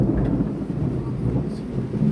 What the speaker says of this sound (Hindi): आज बारिश तेज हो रही है।